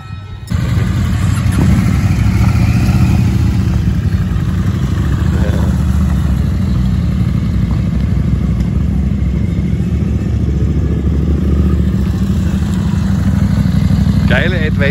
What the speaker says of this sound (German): Und da kommen schon wieder ein paar Motorradfahrer.